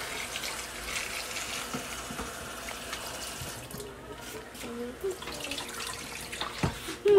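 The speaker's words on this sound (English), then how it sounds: "we're going to make some eggs, but first we got to wash them" Dirty eggs are rinsed under a running kitchen tap, a steady wash of water splashing with faint drips and handling noises, close and moderately loud.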